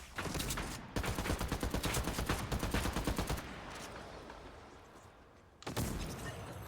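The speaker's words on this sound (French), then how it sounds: "il y a un mec qui me tire dessus." Video game gunfire: dense, rapid automatic bursts rattle almost continuously, fade into a rumbling tail, then a fresh volley breaks out loud near the end.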